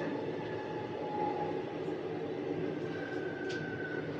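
Visakhapatnam LTT Express pulling in at a station, a steady low rumble of rolling coaches and rail noise held at an even level throughout.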